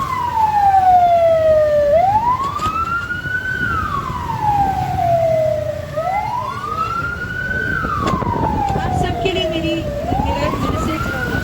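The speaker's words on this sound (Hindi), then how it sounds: "तो फर्स्ट प्रायोरिटी पे आप एम्बुलेंस को रास्ता दें।" Ambulance siren wailing through Lahore traffic, a loud rising and falling wail repeating roughly every four seconds, close by, over a steady bed of road and engine noise.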